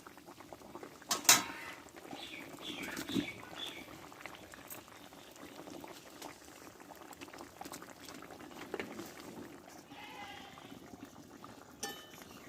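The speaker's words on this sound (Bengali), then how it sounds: "আলুটা সিদ্ধ হয়ে গেছে একদম সুন্দর কিছুক্ষণ ফুটিয়ে নিয়ে আমি নামিয়ে নেবো" A pot of mixed vegetable curry with potatoes bubbles on the stove, a faint steady simmer with occasional light clinks and a sharp knock early on, quiet and close.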